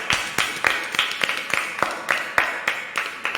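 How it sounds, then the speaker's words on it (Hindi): A church congregation claps in welcome during a prayer service, a rhythmic run of about a dozen sharp, evenly spaced claps close by and fairly loud, with no speech over them. "आइए हम पहले सब मिलकर परमेश्वर के जोरदार तालियों से स्वागत करते हैं।"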